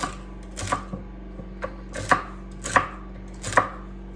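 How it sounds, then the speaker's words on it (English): A knife chops four small celery stalks on a cutting board for crock pot beef barley soup, five or six sharp, evenly spaced cuts with a faint steady hum underneath. "now I have 4 small celery stalks, and we're just going to cut those up and put those right in the crock pot as well"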